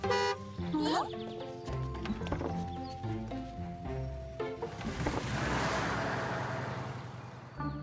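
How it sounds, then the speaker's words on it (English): A cartoon school bus arrives with a short toot of its horn, followed by bright clip-clop and musical effects, then a rising wash of noise as the scene plays on. "The school bus has arrived."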